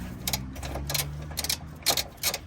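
Quick clicking bursts of a ratchet loosening a front left engine mount bolt on a Honda Jazz, coming in several short rhythmic runs, close and clear with no talking.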